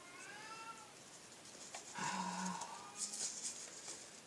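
A cat meows several times nearby, with rising and falling cries separated by short pauses and a little background clatter.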